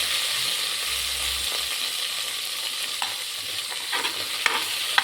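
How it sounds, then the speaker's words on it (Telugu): Eggplant, capsicum and curry leaves fry in oil inside a pressure cooker, giving a steady close sizzle with scraping stir strokes and a few sharp clicks toward the end, no voices. "కుక్కర్ పెట్టుకొని ఆయిల్ వేసుకొని, ముందుగా వంకాయలు అయితే బాగా ఫ్రై అవ్వాలి కాబట్టి వంకాయలు, క్యాప్సికము, కొద్దిగా కరివేపాకు వేసి వీటిని అయితే బాగా ఫ్రై చేసుకోవాలి"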